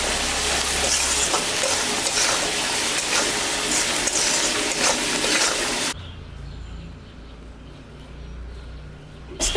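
Oil sizzles loudly in a pan with turmeric and salt as ingredients are stirred, scraping and hissing continuously for several seconds before dropping to a quieter simmer.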